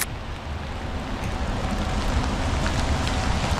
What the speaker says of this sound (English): it's currently pouring down rain right now